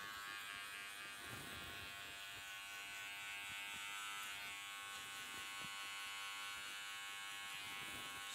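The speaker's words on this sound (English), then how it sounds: "using the toe and heel of my clipper to get nice and low" Electric hair clippers buzz steadily through a short women's haircut, the toe and heel of the blade working close to the skin, a continuous near whine with small shifts in pitch as the clipper moves.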